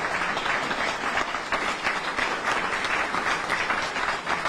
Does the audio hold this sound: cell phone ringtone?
no